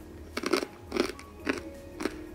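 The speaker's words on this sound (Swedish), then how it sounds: "Känns som att man tuggar för högt alltså." Crunchy roasted corn is chewed close up in four distinct crisp bites spaced about half a second apart, each a sharp crackling crunch against a quiet background.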